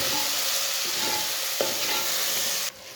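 Tomatoes and whole green chillies sizzle steadily in a frying pan, with a broad constant hiss, a few soft scrapes of stirring and one brief clack near the middle before the sizzle drops away at the end.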